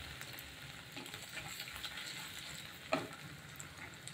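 Cumin, ginger and halved dried red chillies sauté in a pan with a low, even sizzle and one sharp utensil tap near the end, no talking.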